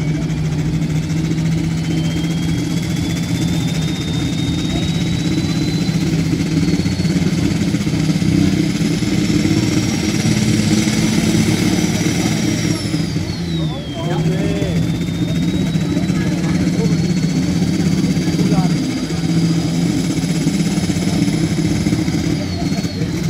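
A pulling tractor called the Navigator runs at a Saturday evening tractor pulling event in Sonsbeck, its engine droning loud and steady without climbing to full revs, with a thin whine rising and dipping above the roar and crowd voices underneath.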